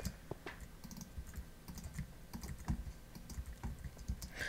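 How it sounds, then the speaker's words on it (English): Rapid clicking and tapping from a computer mouse and keyboard while playing Minecraft, irregular bursts of sharp clicks, close and fairly quiet, with no talking. "Sorry if you can still hear all those mouse clicks like on every other episode."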